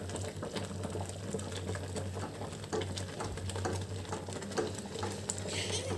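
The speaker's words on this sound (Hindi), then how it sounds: "ये बहुत छींटे आ रहे हैं इनके" Rice phirni with melted ghee boils thickly in a pan on the stove, a steady bubbling and spattering patter, fairly close, continuing throughout with no speech.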